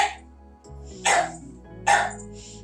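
A dog gives three short, sharp barks spaced about a second apart, fairly close and loud against a quiet background with a low hum, no talk.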